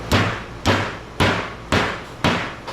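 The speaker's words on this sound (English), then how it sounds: "That hammer's your best friend." A hammer strikes scrap metal five times in a steady rhythm, each blow a loud, sharp metallic crack with a short ringing decay, close by with no voices.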